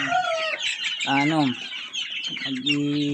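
One-month-old chicks peeping loudly and close, a busy overlapping chorus of high chirps with a few lower clucking calls from nearby fowl.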